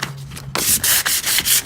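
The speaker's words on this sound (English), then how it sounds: "You just want to make sure that you completely sand it down." Hand sanding a car body panel to prepare it for body filler: close, loud rhythmic rasping strokes, about six back-and-forth passes in quick succession, with no talking.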